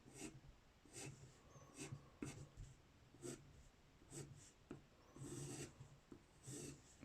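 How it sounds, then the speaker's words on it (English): A pencil draws lines on paper in a drawing exercise, giving soft, close scratchy strokes in a steady rhythm of short repeated bursts with brief pauses between them. "always trying to keep the pencil going in the same direction as the previous lines."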